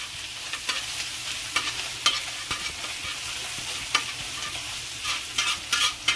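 Onion frying in oil in a pan, likely a tawa, gives a steady close-up sizzle broken by sharp scraping clicks as it is stirred, with no voices.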